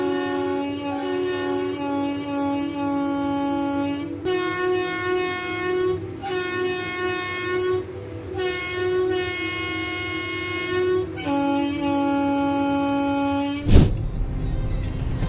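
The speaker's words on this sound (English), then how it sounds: "If the train does not slow down, a serious collision could occur." A train passes with long, loud tonal horn blasts repeated several times with short gaps, ending in a sharp impact-like burst near the end; no talking.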